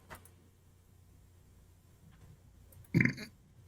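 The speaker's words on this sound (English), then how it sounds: "I just burped." A single loud, short burp erupts near the end after a few seconds of quiet room noise.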